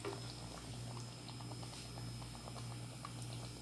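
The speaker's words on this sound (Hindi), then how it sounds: "अब हम इसको 15-20 मिनट के लिए पकने के लिए छोड़ देंगे हल्की आंच पर" Aloo gosht curry with water simmering on a low flame, a steady soft bubbling with scattered small pops, quiet and continuous over a faint hum.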